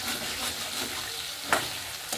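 Chicken frying in a pan, a continuous close sizzle and crackle with a couple of brief louder spits, no talking.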